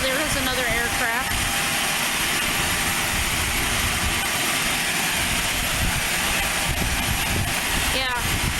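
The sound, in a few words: propeller aircraft at Aurora Municipal Airport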